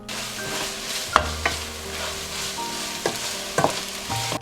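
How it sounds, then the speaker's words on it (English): Onion and a sprinkle of all-purpose flour sautéed in a pan over medium heat: a soft constant sizzle with a few close scraping clacks of a spoon stirring, quiet, with no talking. "Saute them for about 1 minute over mid-heat until there is no more lump left."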